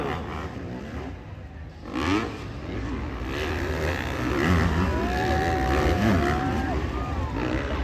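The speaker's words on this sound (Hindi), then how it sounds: "इनके बाइक्स की गुर्राहट जैसे टाइगर गरज रहा हो।" Motorcycles at a bike stunt show in Raipur rev and roar loudly, with engine pitch rising and falling in swells over continuous crowd noise and talk.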